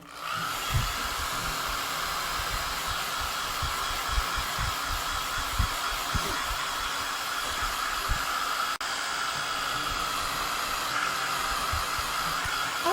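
A handheld dryer blows steadily on freshly made craft stars, a constant close whooshing hum running throughout, with a few light knocks and handling bumps underneath.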